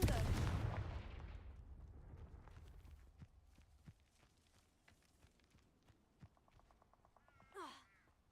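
A Confringo fire spell in Hogwarts Legacy detonates with a loud, booming blast that fades out over a second or two, followed by quieter scattered thuds, footsteps and a brief whooshing sweep near the end.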